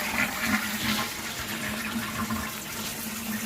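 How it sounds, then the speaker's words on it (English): A toilet with a newly replaced syphon and fill valve is flushed, giving a loud, close rush and gurgle of water that settles into a steady swirling drain and refill. "So give it a flush, Curtis."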